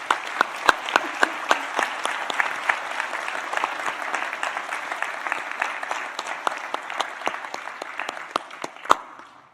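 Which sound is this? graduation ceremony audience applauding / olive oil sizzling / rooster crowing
graduation ceremony audience applauding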